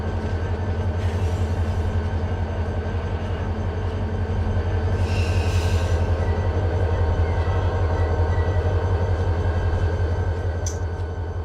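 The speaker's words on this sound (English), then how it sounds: "Guess that is the locomotive." A locomotive in the Run 8 train simulator game produces a steady, loud engine drone with a heavy low rumble and faint rhythmic rail clatter, running continuously and close throughout.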